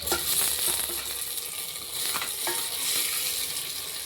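Onions and tomato frying in a pan for an anchovy fish curry, a steady hiss of sizzling oil with occasional stirring scrapes, close and continuous throughout.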